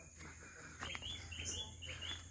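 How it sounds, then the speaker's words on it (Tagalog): Wild birds chirping and calling faintly in the forest on Mount Nagbukel in Quirino, a few short tweets over steady insect buzz and low background noise. "pakinggan niyo yung mga tunog ng ibon"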